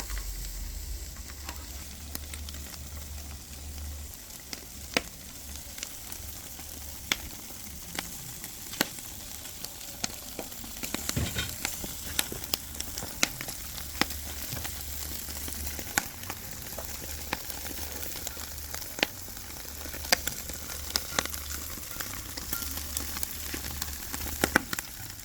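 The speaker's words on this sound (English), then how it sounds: "Brush some oil on your grill so that the pigtail do not stick onto the grill" Jerk pigtail sizzles steadily on an oiled barbecue grill, a constant frying hiss dotted with sharp pops and crackles, close and moderately quiet, with no talking.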